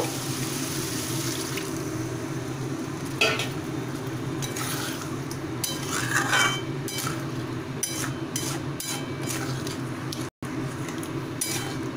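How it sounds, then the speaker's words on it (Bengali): Water being poured into a pan of sautéed potatoes, a steady rushing pour with a few clanks of the pan and utensil, loud and close. "এবার আমি এর মধ্যে আলুগুলো সিদ্ধ করার জন্য সামান্য জল দিয়ে দেব"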